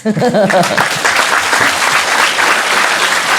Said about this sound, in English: I'm just saying I'm good and then you clap